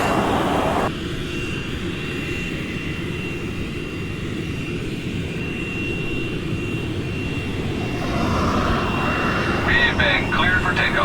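Inside an airliner cabin during flight before landing, a steady broad engine roar fills the background while a voice makes an announcement over it.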